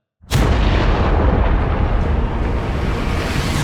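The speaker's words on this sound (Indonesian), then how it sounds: "Seketika, kota Wentira meledak." A city destroyed in a massive atom-bomb-like blast: a sudden loud explosion bursts in and rolls into a sustained deep, rumbling roar that fills the space without letting up.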